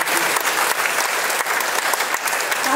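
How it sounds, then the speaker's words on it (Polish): Dense, steady applause from a concert audience after a performance by a senior women's folk ensemble, filling the hall continuously for a few seconds at moderate volume. "bardzo proszę jeszcze o klaski."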